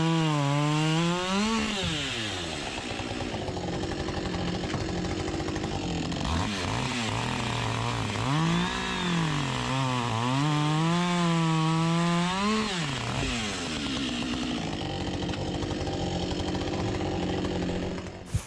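A chainsaw slices 16-inch firewood lengths from wood slabs, the engine loud and close, its pitch climbing and sagging as the chain bites and revs through each cut for the whole stretch.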